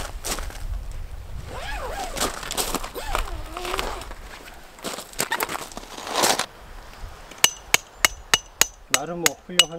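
Tent pegs being hammered into the ground while pitching a shelter at a winter campsite, a run of sharp metallic strikes arriving in a quick regular series near the end, after quieter handling noise and faint voice.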